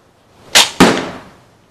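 A bullpup slingshot crossbow with rollers and a telescopic sight fires, two sharp close snaps in quick succession followed by a short fading twang.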